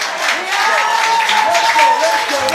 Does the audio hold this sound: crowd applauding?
yes